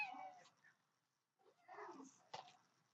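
A house cat named Spot gives a short meow, faint and close, in a quiet room with brief pauses around it.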